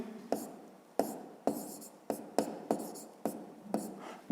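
Pen or pencil marks on paper while solving a fifth-grade math exercise by hand, a series of short scratchy strokes in an uneven rhythm, close and quiet.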